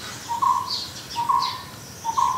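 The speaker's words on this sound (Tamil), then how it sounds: "வெண் கண்ண குக்குருவான் அப்படின்றது தான் தமிழ் பெயர்" A white-cheeked barbet calls outdoors, giving three evenly spaced, rising kuk-roo phrases close by, with faint chirps from other birds in the background.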